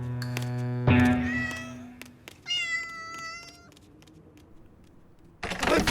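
Cartoon cat meows several times with clear tonal cries, nearer and louder in the first half, then a higher meow mid-clip, followed by a brief noisy burst at the end.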